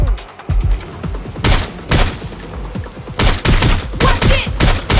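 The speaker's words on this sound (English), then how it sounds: "Shots fired!" Rapid bursts of automatic gunfire in the video game Watch Dogs Legion, loud and close, with repeated clusters of shots and echoing reports separated by brief gaps, filling the whole stretch without talking.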